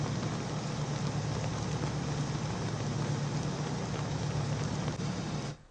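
Heavy monsoon rain pours down on flooded Indian streets, a steady dense hiss of rainfall with a faint engine hum beneath, cutting off abruptly at the end.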